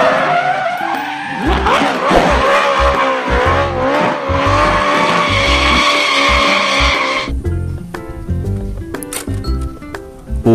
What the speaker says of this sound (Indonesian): kalau ini mobil balap warna merah